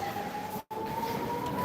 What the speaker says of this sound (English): we've just got a siren at the moment from the place I'm recording live at